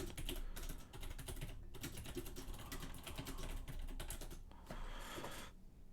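Rapid, continuous clatter of a computer keyboard as someone types a prompt, fairly near and steady with brief pauses, no talking over it.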